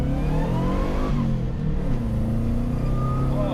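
A turbocharged Subaru Loyale, running again after a cam belt fix, pulls hard under acceleration, its engine drone rising steadily in pitch from inside the car, loud and continuous with no talk.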